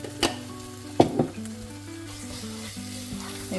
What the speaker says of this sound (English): Now I'm going to add 2 tablespoons of tomato paste.